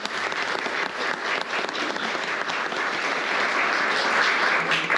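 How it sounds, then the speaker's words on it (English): Sustained, dense applause from a crowd at a county interfaith breakfast, steady and fairly loud throughout with no break. "give a huge thank you and round of applause to our Faith Community"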